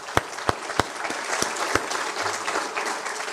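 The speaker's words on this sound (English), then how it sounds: "Let's give them a round of applause." An audience at a safety council annual meeting and awards event applauds the board of directors. A few sharp, near claps open a broad, steady wash of clapping that holds at a moderate level throughout.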